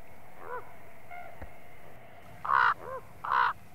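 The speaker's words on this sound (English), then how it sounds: "A splash sends a raven on his way." A raven calls in Yellowstone National Park grizzly country, giving about four harsh, throaty croaks spaced unevenly, the last two loud and close, over a quiet outdoor background.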